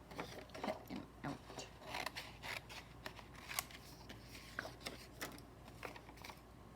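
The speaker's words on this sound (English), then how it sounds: "Now let's cut them out." Scissors cut out stamped paper pieces in a steady run of close, crisp snips and rustling paper, repeated quickly with little pause.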